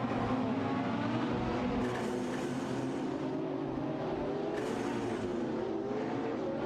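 Race cars in a video game race, including a Radical RXE and a McLaren 675 LT, produce a continuous, loud engine roar with shifting pitch as they tear around the track, with no talk.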